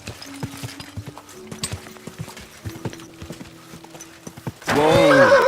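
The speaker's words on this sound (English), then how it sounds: "Easy, good horse." In Kingdom Come: Deliverance 2, a horse's hooves clop in a steady rhythmic trot, then a loud, close neigh bursts out at the end.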